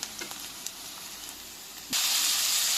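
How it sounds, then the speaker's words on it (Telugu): Melon seeds and poppy seeds roasting in a hot pan give a steady soft sizzling hiss that suddenly swells louder and brighter partway through and stays loud to the end. "పుచ్చగింజలు, టేస్ట్కి ఒక రవ్వ గసగసాలు వేసి వేయించుకోవాలి"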